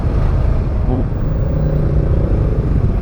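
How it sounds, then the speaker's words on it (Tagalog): A Motorstar TMX 125 Alpha motorcycle's engine drones low and loud as it labors through bumper-to-bumper traffic, with a steady rumble close by and a voice talking over it. "pilit ka pa ng makina"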